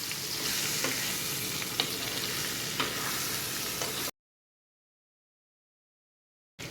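Ripe mango curry with salt, turmeric and coriander-cumin powder fries and sizzles in a pan as it is stirred, a steady close hiss with light spoon scrapes, then cutting to silence near the end.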